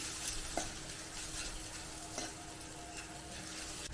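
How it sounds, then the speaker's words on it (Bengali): Onions with ginger garlic paste stir-fried in a pan, a faint steady hiss of frying broken by occasional soft scrapes of a spatula, quiet and close. "এবার এটা একটু নাড়িয়ে এটা ভালো করে একটু কষিয়ে নেব"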